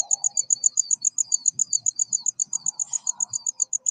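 A cricket chirps in quick, even bursts throughout, bright and close, with faint rustles underneath.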